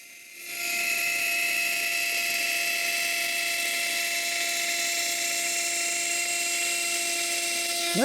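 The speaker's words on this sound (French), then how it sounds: "Je mets une nouvelle fraise et je diminue la vitesse de coupe" A CNC router milling aluminium with a fresh cutting bit at reduced cutting speed, a steady high-pitched whine with tonal harmonics that rises after a brief start and holds throughout.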